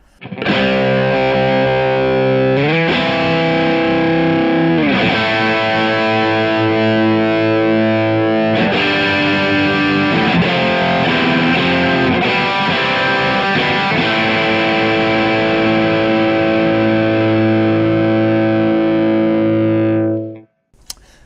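Electric guitar through an OCD overdrive pedal rings out in sustained, crunchy chords that change every few seconds, loud and continuous, then cuts off at the end.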